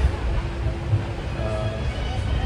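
A passenger train travels from Delhi toward Agra, heard from inside the carriage as a steady low rumble with faint rolling wheel noise, with voices murmuring in the background.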